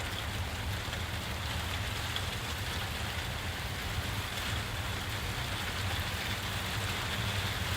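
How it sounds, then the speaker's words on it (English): Rain falls steadily as a faint, even wash of patter with no distinct drops standing out, and a low engine-like rumble sits underneath. Nobody speaks. "Raining."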